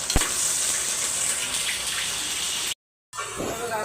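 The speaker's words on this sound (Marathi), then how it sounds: "बघा पेस्ट आपल्याला अशी चांगली फ्राय करून घ्यायची आहे, ती तेलामध्ये चांगली ब्राऊन थोडी करून घ्यायची आहे" Ginger garlic paste fries in hot oil in a pan with bay leaves and onion for egg biryani, a steady bright sizzle that runs on loud and close, then cuts out briefly before resuming.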